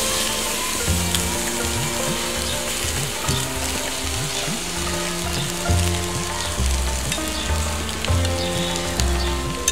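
Chicken sizzles steadily while barbecued over low heat, a loud continuous crackle and hiss with constant fine popping, close up and with no talk.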